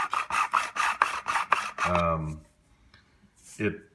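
A 3D-printed PLA part in a pinball machine binds and rubs, giving a series of rapid rasping scrapes in a steady rhythm, close and dry, before a short creaking squeal at the end.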